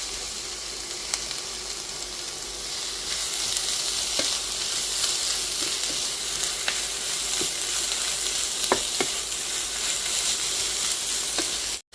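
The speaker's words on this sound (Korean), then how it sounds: "이 상태에서 오징어를 한번 살짝 볶아줄게요." Squid stir-frying in a pan, a steady close sizzle running throughout with occasional utensil clicks, no talk.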